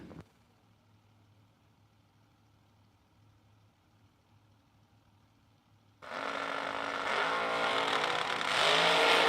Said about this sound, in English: Price right-hand side, the Mustang down 562. Back left-hand side, the Blower Dragster down 430.